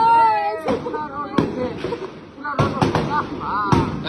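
Several sharp police gunshots crack in quick bursts, near and loud, during unrest in Bangladesh on 5 August 2024, with people shouting between the shots.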